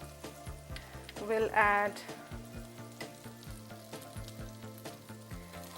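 Melted butter sizzles softly in a pan over a medium flame, a faint steady crackle under a speaking voice and background music.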